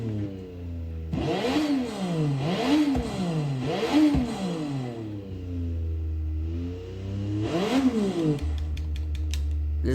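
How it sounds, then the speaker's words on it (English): A racing car in Forza Motorsport 6 revs its engine hard in repeated rising and falling surges, with crackling exhaust pops between revs, loud and close, and no voices. "This car does, in fact, pop fire out of the exhaust when revved."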